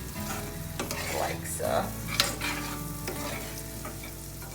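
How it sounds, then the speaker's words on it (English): A teaspoon of Himalayan salt is stirred into onions frying in a pan. A steady sizzle runs throughout, with scraping stirring strokes and a few sharp clicks over it, and a voice speaks briefly. "I'm going to add a teaspoon of Himalayan salt to the actual frying pan, and I'm going to give that a good mix in"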